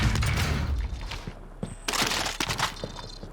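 A few sharp, sporadic gunshots from an LC-10 submachine gun in Call of Duty Warzone, scattered cracks separated by quiet gaps after an opening burst of louder combat noise.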